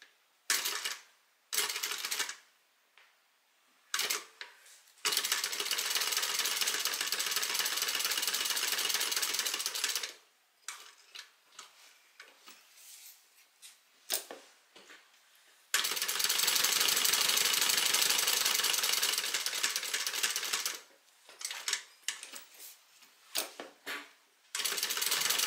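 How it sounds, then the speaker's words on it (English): A sewing machine stitches a seam at a one-eighth-inch allowance, running in loud, steady whirring bursts of several seconds each, separated by short pauses and brief clicks as the fabric is repositioned. "we're stitching at 1/8 of an inch seam allowance here"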